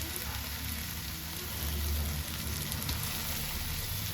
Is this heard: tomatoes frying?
yes